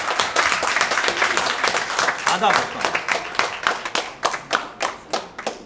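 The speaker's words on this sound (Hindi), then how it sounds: "जोरदार तालियां बजाइए दोस्तों" Audience applause at a Hindi-Urdu poetry and performance event, dense and loud at first, then thinning into a few separate, spaced claps toward the end, with some voices mixed in.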